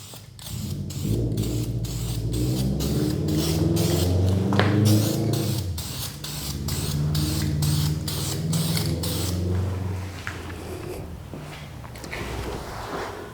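Spray paint hisses from a can in bursts, loud and close, with short pauses between passes and faint rattling and handling clicks.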